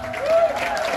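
Brief burst of audience applause at a boogie woogie dance show, a steady wash of many hands clapping together, fairly loud and close for about a second.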